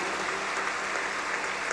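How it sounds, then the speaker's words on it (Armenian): A church congregation applauding, dense steady clapping that fills a large hall at an even level throughout, with no talk over it. "եկեք ողջունենք մեր ծափերով այս մարդկանց"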